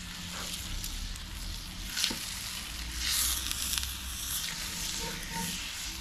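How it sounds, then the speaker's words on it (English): A piece of meat sears over an open fire outdoors, producing a continuous broad, crackling sizzle with occasional pops and shifts, steady and close throughout. "piece of meat on a fire"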